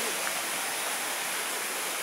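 Stream water pours over a small bridge in a continuous broad, hissing rush, steady and close, with no voices.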